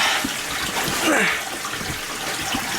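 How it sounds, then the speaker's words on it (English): Creek water flows out from underground near a cave opening on a wooded ridge, a steady broadband rushing wash with a brief louder swell in the middle, heard close and continuous. "You see the creek continues on from underground there."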